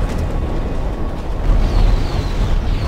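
In the space combat game Strike Suit Zero, a fighter ship explodes with a deep, rumbling blast that swells midway and rolls on continuously, loud and low, with no voices over it.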